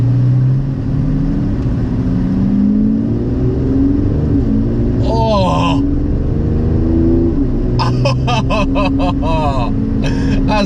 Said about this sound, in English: But I love the sound that this car is producing already